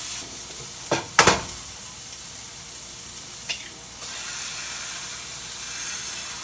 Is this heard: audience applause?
no